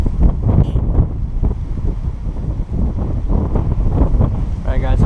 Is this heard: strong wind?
yes